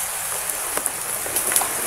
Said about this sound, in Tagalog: Grabe yung pag-ulan mga idol.